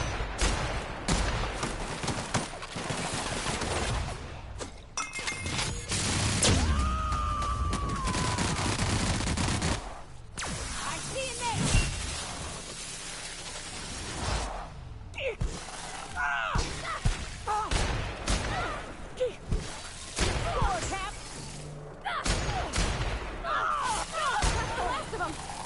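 Gunfire in the sci-fi RPG The Outer Worlds, rapid bursts and single shots scattered through a chaotic fight with impacts and creature noises, under intermittent talking.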